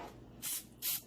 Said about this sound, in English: I'll go ahead and use the Pam. Just a quick little spray